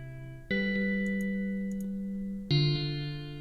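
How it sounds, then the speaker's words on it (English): Two sustained synthetic tones, the second struck partway through, each ringing out with a long, spacious reverb effect tail that slowly decays. "Can you see we're getting more reverb? So that's quite a nice amount of reverb."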